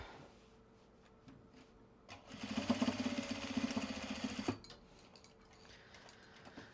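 A sewing machine stitches in one steady burst of about two and a half seconds, a close, even mechanical whir with a fast rhythmic chatter, set between quieter stretches of room noise.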